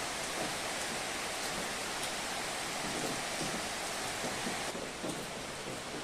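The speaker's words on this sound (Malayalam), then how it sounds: "പുറത്ത് നല്ല ഗംഭീര മഴ നടക്കുവാണ് കേട്ടോ" Heavy rain pours outside, a dense, steady roar of falling water that fills the whole stretch evenly, with no voices over it.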